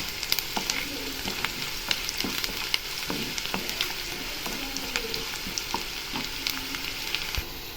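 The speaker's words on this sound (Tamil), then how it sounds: "இப்போ வெங்காயம் நல்லா வதங்கட்டும்" Onions frying and softening in a pan for a traditional village-style spicy rice-flour puttu, a steady close sizzle with scattered stirring scrapes and small pops throughout, no voices.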